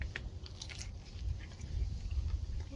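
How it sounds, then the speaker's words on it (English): A crunchy taco shell filled with ground elk meat, made on a griddle, is bitten and chewed close up: faint cracking crunches over a low background rumble. "Crunchy shell's the only way to have tacos."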